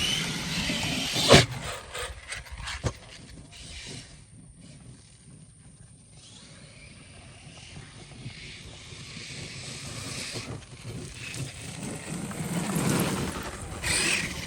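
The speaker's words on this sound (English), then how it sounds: "the gears don't sound that great either" Rough, grinding mechanical whir of a Traxxas Maxx RC car's gears runs continuously, rising and falling, with a sharp knock near the start; the car is running hot and the gears sound worn.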